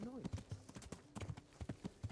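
Horse hooves clip-clopping at a quick pace in Kingdom Come: Deliverance, a steady rhythmic run of close hoof beats with a voice talking over part of it.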